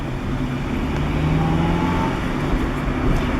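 A 1998 Acura Integra with a clunking, bucking drivetrain fault drones steadily as the clutch is released, a low engine rumble with road noise and no distinct clunk standing out.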